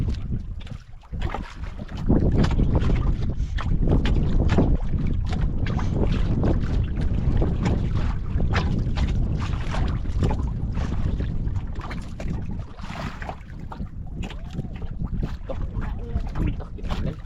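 A small fishing boat out on open water, with a continuous loud low rumble of the hull and motor mixed with gusts of wind buffeting the microphone.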